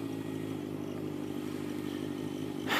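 A motorcycle idling and riding through downtown and Midtown Atlanta, its engine running hot, a steady low mechanical drone with a brief louder surge at the very end, close and without talk.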